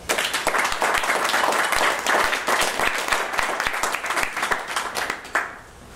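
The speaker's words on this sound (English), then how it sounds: "would you join me in giving them a round of applause?" A room of school leaders at a heads' forum claps steadily in sustained applause, then the clapping thins and quickly dies away near the end.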